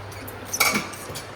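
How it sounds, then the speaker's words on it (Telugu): A metal spoon scrapes and clinks against a pot while milk is stirred into cooked rice and jaggery for a Bonalu festival dish, one short burst of stirring midway through an otherwise quiet moment. "దాని తర్వాత పాలు యాడ్ చేసుకొని కలుపుకోవాలన్నమాట"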